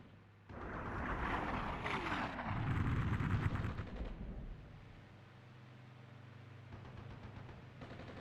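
Cluster munitions strike in the war game Armored Brigade 2, a rolling burst of muffled explosions swelling over a few seconds, then fading into a low rumble, fairly faint overall.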